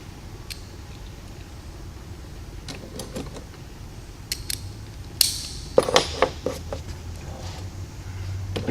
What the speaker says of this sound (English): I'm going to tighten down my shoulder bolts that hold the two hinges together